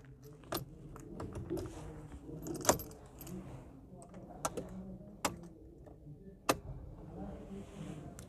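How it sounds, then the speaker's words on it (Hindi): A flip key is handled and pushed into the ignition of a 2021 Tata Tiago XT, giving several sharp metallic jangles and clicks at close range over a quiet cabin hum. "अब चाबी मैं आपको ऑलरेडी दिखा चुका हूँ, आपको ऐसी कुछ फ्लिप की मिलती है। एक बार इसको इंसर्ट कर लेते हैं।"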